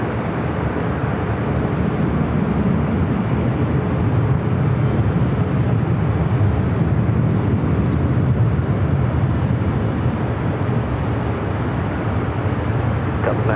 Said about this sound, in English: Asiana Flight 201 heading back to Seoul, the A380 Super, running a little late here today